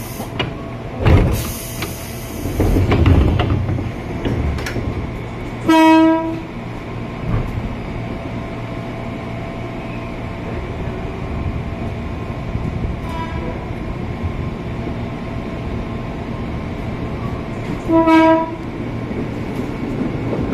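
Airport Rail Link trains passing each other at Duri Station in Jakarta, a steady rumble of rolling railcars with two drawn-out horn blasts, one early and one late, plus clatter and a couple of bangs near the start.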